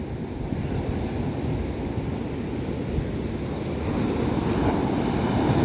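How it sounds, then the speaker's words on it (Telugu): Sea waves washing onto Chirala beach in a steady, continuous surge, with gusty wind buffeting the microphone throughout and the surf swelling slightly louder toward the end. "అలలు అయితే ఎంత బాగా వస్తున్నాయో"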